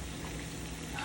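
Hush puppies deep frying in hot oil, a steady, dense sizzle and crackle that fills the whole moment close up, with no voices.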